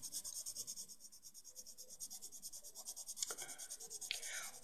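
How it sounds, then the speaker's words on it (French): Faber-Castell Polychromos colored pencil strokes on paper while shading one side of a dress in a coloring book, a steady soft scratchy rubbing with rhythmic back-and-forth strokes, close and quiet, no talking. "Je vais faire un côté de la robe au polychromos."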